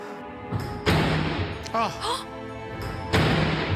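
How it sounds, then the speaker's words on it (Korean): Several heavy, booming thuds strike a front door in an apartment building in sequence, a couple of loud bangs with pauses between, while a voice briefly cries out in the middle. "막 몸을 던져서 쿵쿵대는 것 같은 그런 소리가 들리는 거예요"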